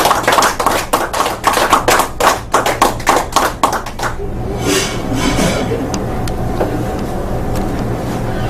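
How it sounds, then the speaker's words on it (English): Applause at a business networking meeting welcoming a custom-embroidery speaker: a few distinct, close hand claps in a quick rhythm for about four seconds, then fading into quiet room noise. "let's give her all a big round of applause and get her up here."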